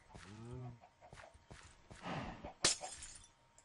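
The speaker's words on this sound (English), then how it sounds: "Hello, chickens." A short chicken cluck from the video game Carrot in a Jar opens, followed by scattered soft thuds and a sharp crash.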